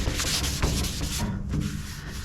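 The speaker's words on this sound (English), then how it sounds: "we're going to keep sanding until that high spot goes away" Continuous rough sanding on a hard car body panel painted silver metallic, close and steady, with rhythmic back-and-forth strokes.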